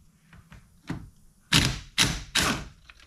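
A pneumatic impact wrench works on a steering wheel bolt, firing three loud hammering bursts in quick succession after a few softer knocks, close up in a workshop.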